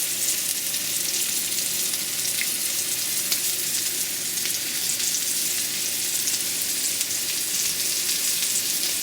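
Pork chops pan frying over medium heat give off a steady, loud sizzle and crackle that lasts the whole stretch, with no voices.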